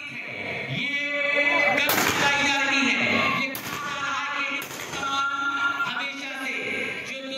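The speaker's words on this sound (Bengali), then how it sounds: "যারা বন্দুক শূন্যে দিচ্ছেন" Three or four sharp gunshots fired into the air crack out at irregular intervals over loud, continuous crowd shouting and voices.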